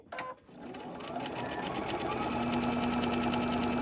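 Sewing machine stitching back and forth at the end of a fabric corner bookmark, a steady close whirring with a brief stop and restart near the start, then running continuously.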